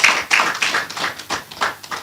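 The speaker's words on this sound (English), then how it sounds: "Please a round of applause for her." A short burst of applause from a small group, scattered claps rising and fading over a couple of seconds.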